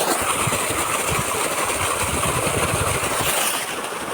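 A home-repaired 10HP submersible water pump runs under heavy pressure, giving a loud, steady broadband rush of gushing water over a low mechanical rumble that continues unbroken with no voices.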